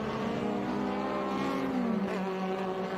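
A vintage saloon race car at Monterey roars past, its engine note climbing and then dropping as it goes by at moderate distance, with no talk over it.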